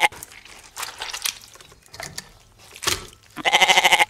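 A goat bleats near the end with a loud, quavering, pulsing cry, after scattered shuffling and rustling noises.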